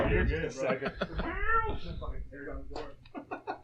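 A house cat meows from behind a closed door in another room, its cries muffled and intermittent beneath continuous overlapping conversation among several men nearby.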